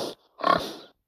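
A pig gives a short snort and then a longer, louder grunting oink, both close and clear with nothing else audible.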